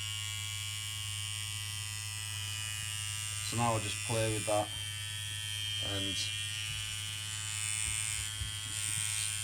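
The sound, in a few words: KillerBee tattoo machine running, needle pressure adjusted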